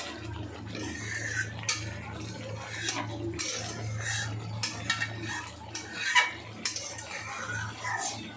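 A spoon stirs garam masala into a paneer rezala curry in a metal pan, with soft scraping and light clinks against the pan repeating steadily, close and fairly quiet.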